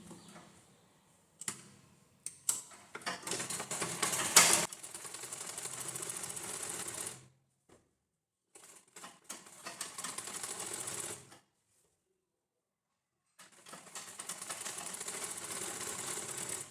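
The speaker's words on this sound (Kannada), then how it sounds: "ಒಂದು ಡಬಲ್ ಸ್ಟಿಚ್ ಹಾಕಬಿಡೋಣ." A sewing machine sews a double stitch on a blouse in several bursts, running loud and steady with quick rattling rhythm, separated by short pauses of near silence.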